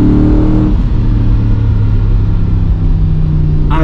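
Alfa Romeo Montreal V8 engine revving loud and close, a deep continuous roar with a rise in pitch near the start, then a steady rumble.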